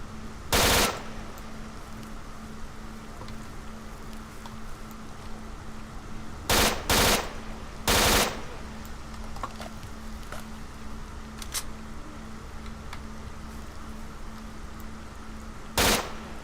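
Gunfire in the video game STALKER: Shadow of Chernobyl, a handful of loud, sharp shots in short bursts, some single and some doubled, spaced irregularly over a steady low ambient hum with no talking.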